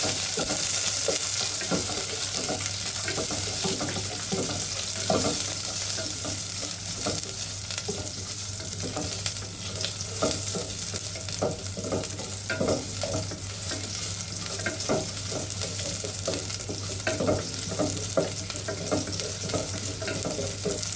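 Four small onions and curry leaves fry in hot oil in a pan for kollu kulambu, a continuous close sizzle with frequent scraping stirs and no voices.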